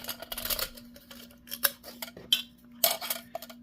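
Metal parts of a tin can alcohol stove with damper are handled up close, giving sharp clinks and light scraping taps in an irregular series under a steady faint hum.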